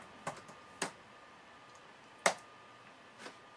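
Sparse keystrokes on an old computer keyboard, four separate faint clicks spaced irregularly across a quiet background.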